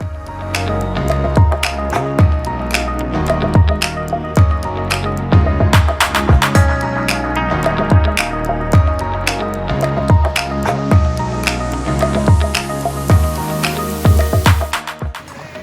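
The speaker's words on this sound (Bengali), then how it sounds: "এই দেখুন ওপর থেকে জল পড়ছে চুনা পাথরের।" Water drips steadily from overhanging limestone rock inside a sea cave on James Bond Island, Thailand, giving many close, crisp drops in an irregular rhythm, with no talking.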